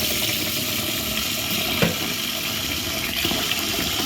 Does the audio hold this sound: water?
yes